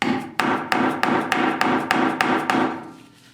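A hammer strikes a bolt extractor in about eight sharp, evenly spaced taps, each ringing briefly before the next, fading away at the end.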